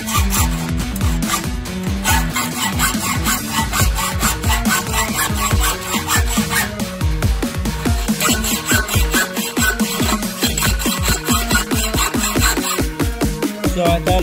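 Skate ramp material is sawn to length, a loud close continuous rasping saw stroke repeating rapidly and steadily throughout, with no talking.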